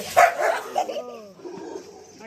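A dog barks and yelps a few times close by, short sharp calls trailing into whiny tones, mixed with someone talking.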